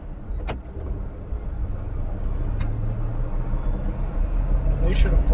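1959 classic car driving with a manual clutch, heard as a continuous low engine and road rumble from inside the cabin, with a few faint clicks and squeaks and a short swell near the end.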